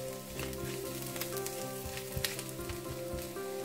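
Ginger and garlic frying in oil, a soft, steady sizzle with light crackling pops, fairly quiet, alone.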